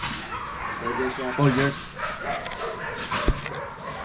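A dog gives a quick series of short, whiny barks and yips, fairly close, mixed in with people talking nearby.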